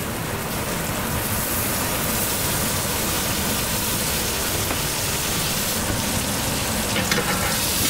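Butter sizzles loudly in a pan around a beef fillet steak, a dense, continuous crackle that holds steady and close for the whole stretch, with no talking.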